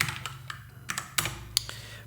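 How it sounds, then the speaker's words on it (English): Fast, uneven typing on a computer keyboard at a terminal: a string of sharp, close key taps with short pauses, a few louder strikes standing out, heard alone with no talking. "So I would start typing."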